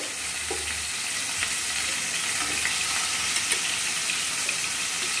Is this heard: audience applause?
no